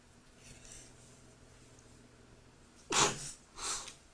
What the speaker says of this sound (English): you do it when you sneeze really hard and your nose feels like somebody smacked.